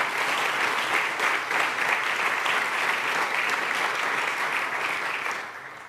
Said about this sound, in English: And I think that department needs a round of applause.